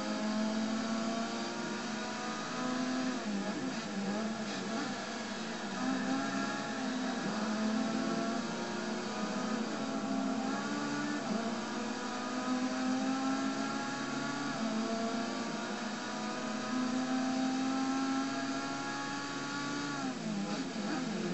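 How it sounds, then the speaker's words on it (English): Race cars lapping a track in a racing league, a continuous buzzing, whining engine drone that rises and falls steadily throughout, with several cars blending together and no talk. "15 cars on the track, and all good clean racing."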